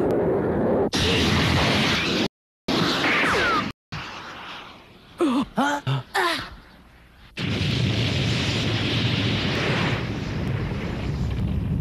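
Ray gun blasts in an animated fight, loud burst-like booms and rushing roars with brief cutouts, sharp pops and swooping tones in the middle, then a sustained roaring blast.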